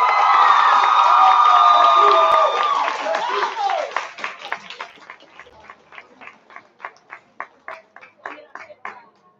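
At a high school freshman ball, the audience cheers and whoops loudly at first, then settles into a rhythmic, evenly spaced rally of unison clapping that continues to the end.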